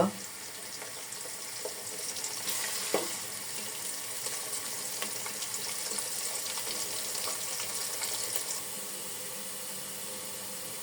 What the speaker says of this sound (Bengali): তার মাঝে আমি লালচে বাদামি হওয়া পর্যন্ত ভেজে নিব।